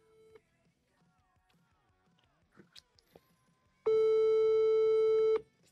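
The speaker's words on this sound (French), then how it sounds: "Tu vois pas que ça sonne." A telephone call goes out, and a single loud, steady electronic tone sounds for about a second and a half near the end after a stretch of faint background noise and movement.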